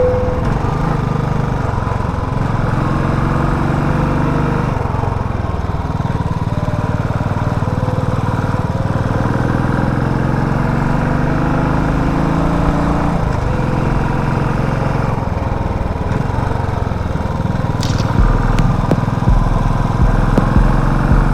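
Motorcycle engine on a solo ride through the Indian ghats from Mumbai to Konkan drones steadily and close for the whole stretch, with pitch rising and falling as the rider shifts speed and wind noise beneath.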